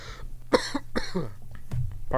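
A single sharp cough cuts into ongoing speech on a podcast, loud and close, with talking resuming right after.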